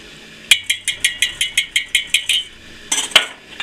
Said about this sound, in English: once you whisk it